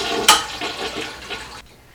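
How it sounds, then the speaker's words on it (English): A household toilet is flushed after its water supply has been shut off, a sharp click then a close rushing drain of water that tapers off and cuts out abruptly, leaving quiet. "And I'm going to flush the toilet."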